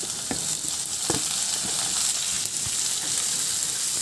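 Onions and tomatoes frying in a pan, a steady close sizzle broken by occasional scrapes and clinks of stirring, with no voices.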